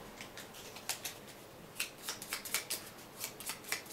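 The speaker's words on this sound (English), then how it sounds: "And we get to shuffle." A deck of cards being shuffled for a solitaire board game, quiet and close, as a quick series of crisp riffling bursts with no talking.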